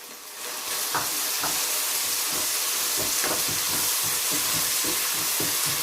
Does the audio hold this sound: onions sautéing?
yes